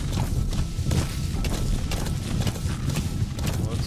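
D-Horse galloping in the video game Metal Gear Solid V, with a steady rhythmic clip-clop of hooves over a loud rumbling low background, close and continuous.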